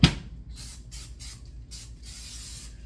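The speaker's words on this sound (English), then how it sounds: "Little spray." Cooking spray is misted onto a hot waffle iron in several short hissing bursts, quiet and close, with a brief knock at the start.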